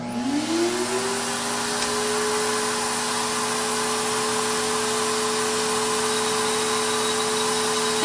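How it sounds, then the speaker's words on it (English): Erica's MT-20 nail vacuum switched on, spinning up with a rising whine, then running at a steady loud whir and hum close by, alone without talk. "we're gonna turn the vacuum on for 4 seconds and see the difference"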